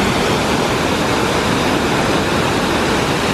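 Loud rushing water outdoors, a dense, constant roar that fills the whole moment at full strength without any break or voices.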